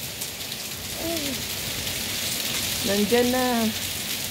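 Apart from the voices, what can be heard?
hail falling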